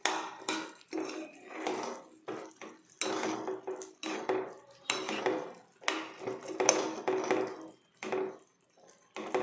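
Aloo chaat, a samosa chaat with green chutney, is mixed with lemon juice in a bowl, giving repeated rhythmic scraping and clinking strokes of a utensil against the bowl, close and fairly quiet.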